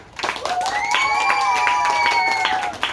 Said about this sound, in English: can we have a big round of applause to the campers?